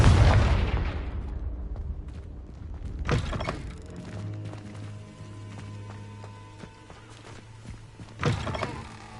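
Blasting-spell explosions in Hogwarts Legacy: a loud broadband blast fades at the start, then two more sharp bursts follow a few seconds apart, with a low steady hum between them.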